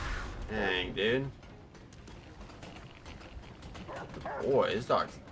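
Dog barking in a shooter video game, a few sharp yips and barks near the start and again near the end, mixed with game noise and a voice talking over it.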